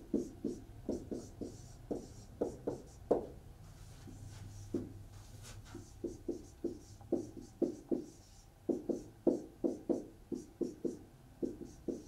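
Repeated squeaky strokes of a marker on a board during a chemistry lesson, coming in quick bursts of short scratches with brief pauses, close and fairly clear, with no talk over them.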